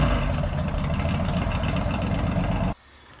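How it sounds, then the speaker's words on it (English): A 1951 Cadillac lowrider rat rod fitted with a 1969 327 small-block Chevy engine rumbles steadily through a loud exhaust at close range, then cuts off abruptly near the end. "It's got gnarly exhaust."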